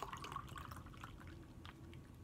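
Faint trickle and drip of Singlecut Billy 18 Watt IPA being poured into a glass, a soft, quiet liquid sound with light splashing.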